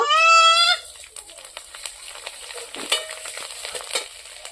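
Black cumin seeds and garlic hitting hot oil for tempering, giving a soft crackling sizzle with scattered pops close by, preceded by a brief bleating animal call at the start.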